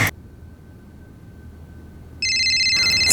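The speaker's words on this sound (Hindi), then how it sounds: "मेरा फ़ोन बजा ना, मतलब मेरा वाला।" A mobile phone ringtone starts after a quiet stretch, a bright repeating electronic melody that plays on steadily and loudly over a faint background hiss.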